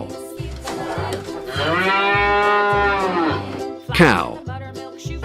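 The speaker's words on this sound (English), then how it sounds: "Cow." A cow moos once, long and loud, with a drawn-out low call close by and a brief second lowing at the end, over a steady rhythmic music beat.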